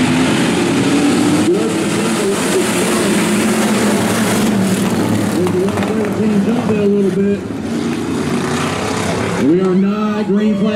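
Stock V8 race cars roar around a small Southern dirt track during a heat race, a loud continuous engine drone with rising and falling revs under a steady announcer's voice.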